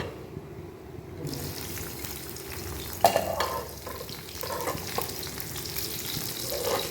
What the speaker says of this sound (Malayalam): അപ്പോൾ ഇനി ഞാൻ ഇതൊന്ന് വറുത്ത് പോരട്ടെ.